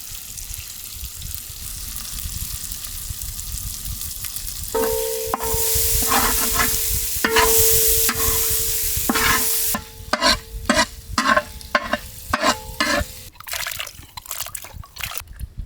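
Roasted, pounded masala is stirred and fried in a pot for a village-style country chicken curry. A loud, continuous sizzle carries rhythmic scraping and metallic ringing, and the strokes grow quicker and choppier toward the end.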